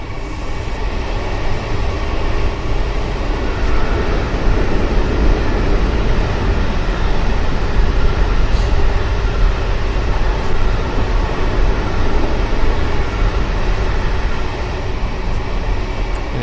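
Trains rumbling past in Train Simulator 2019, a loud continuous rolling roar of railcars on track that holds steady for a long stretch with faint clicks on top; no talking.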